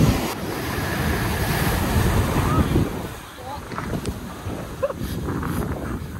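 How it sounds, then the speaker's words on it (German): Large ocean waves roll and break on a sandy surf beach in Africa, making a loud, continuous roar. Gusts of wind buffet the microphone throughout, and the surge dips briefly midway before building again. "Schaut euch mal diese riesigen Wellen an."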